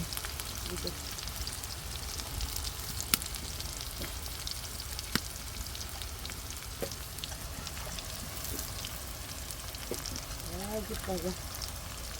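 Onions sizzle and crackle in a hot wok, a steady frying hiss with a few sharp clicks and brief talk underneath.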